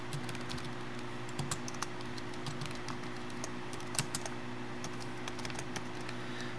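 Code for an Arduino ultrasonic sensor program is typed steadily on a computer keyboard, with light, close key clicks in an uneven rhythm over a constant electrical hum.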